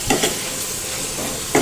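A spoon stirs coriander-cumin powder and red chili into a pan of korth, a soft steady sizzle running underneath with a few light scrapes and taps against the pan.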